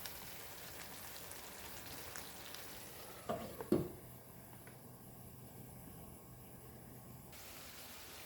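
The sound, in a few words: chicken wings and onions frying in a pan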